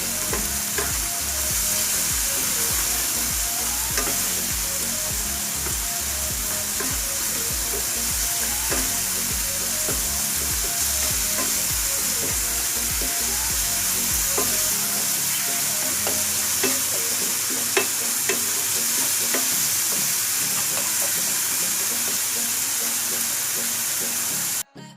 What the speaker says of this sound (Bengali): দিয়ে এখন আমি ভালো করে নেড়ে চেড়ে